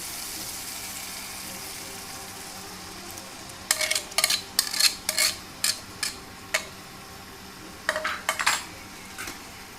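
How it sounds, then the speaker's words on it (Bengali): Marinated mutton for a doi roast goes into a pan of hot oil, with a run of sharp metallic clinks and scrapes of utensil on pan over a soft, steady background hiss; no one speaks. "দেখুন বেশ তেল তেল ছেড়ে এসছে। এবার আমি ম্যারিনেট করা মাংসটা দিয়ে দেবো।"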